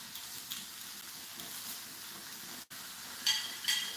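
Food frying in a pan at a hotpot-style meal, a soft continuous sizzle with faint stirring scrapes, a brief dropout partway through and a couple of sharper crackles near the end, with no talking.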